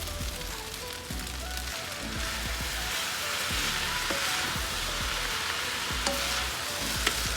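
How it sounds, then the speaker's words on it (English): Soy sauce added to shrimp fried rice in a hot pan brings a loud, dense, continuous sizzle, close up, with scattered scraping and tapping as the rice is stirred. "Let me go ahead and add my soy sauce"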